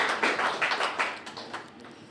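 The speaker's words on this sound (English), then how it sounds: "Give a round of applause for them." Applause from a small audience at a First Friday community music event in Denver: a short, dense patter of clapping that rises quickly and then thins out, with no talk over it.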